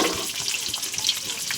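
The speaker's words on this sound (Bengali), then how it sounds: "পেঁয়াজটা ভাজা ভাজা হয়ে গেছে। গোটা জিরে, শুকনো লঙ্কা, গোলমরিচ বাটা দিয়ে দিলাম।" Onion with ginger-garlic paste, whole cumin, dried red chillies and ground pepper frying in a pan, a steady close hiss of sizzling oil with small crackles and pops throughout.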